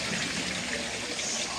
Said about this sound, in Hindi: पे पानी आ रहा है